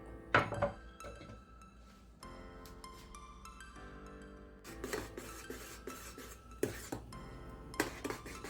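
Low-carb fufu dough being stirred in a pan on a low flame: repeated clinks and scrapes of utensil against metal, with irregular clattering bursts, close by and without talk.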